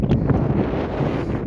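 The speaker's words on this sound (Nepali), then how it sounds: "एकदमै तीव्र गतिमा हावा चलेको छ" Strong wind gusts at high altitude on a Himalayan trek near 4,650 meters, buffeting the microphone with a loud, continuous low roar and no talking.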